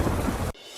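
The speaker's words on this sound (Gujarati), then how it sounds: "ભારે પવન અને મેઘ ગર્જના સાથે વરસાદની પધરામણી." Heavy rain with a thunder rumble during a windy monsoon storm over a city in Gujarat, loud and dense for about half a second before cutting abruptly to a faint hiss.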